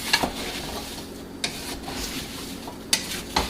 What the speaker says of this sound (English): you stir it enough just to keep it from sticking to the bottom